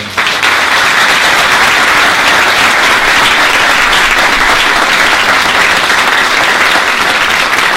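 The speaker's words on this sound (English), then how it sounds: "please, let's give them a round of applause" Sustained applause from the audience at a Sutter County supervisor and superintendent of schools candidate forum, honoring three candidates; loud, dense clapping fills the room steadily for the whole stretch.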